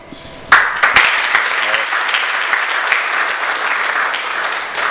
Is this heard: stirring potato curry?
no